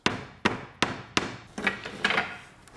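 A hammer tapping at the joints of a laundry basket being repaired: four sharp, evenly spaced knocks close by, followed by a few softer, duller taps.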